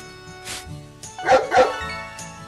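A dog in the farming video game Story of Seasons: Pioneers of Olive Town barks in short yips. Two louder barks land close together in the middle, with softer ones before and after, and no one talks.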